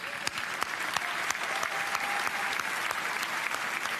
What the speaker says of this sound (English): We can applaud them, please.